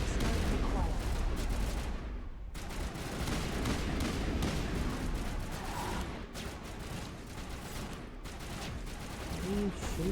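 Sustained automatic gunfire from a Mass Effect 1 firefight, loud, dense bursts rattling almost continuously with a brief pause, plus mechanical clatter and voices mixed in.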